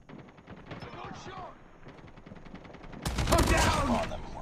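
Video-game guns firing at close range: a steady rattle of rapid shots through the first half, then a louder, denser burst of gunfire from about three seconds onward.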